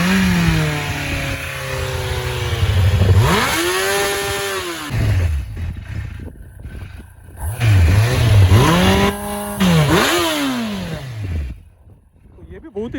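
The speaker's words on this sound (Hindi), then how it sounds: "आफ्टर मार्केट एग्जॉस्ट डालने के बाद कैसे ये बाइक साउंड करती है।" Kawasaki Z800 motorcycle fitted with an aftermarket exhaust revs hard several times close by, the engine note climbing sharply and dropping back between blips, loud against a light idle rumble.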